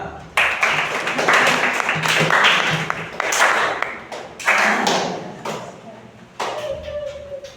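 Classroom group clapping hands in several bursts, sharp close claps that start and stop with short gaps, mixed with brief speech.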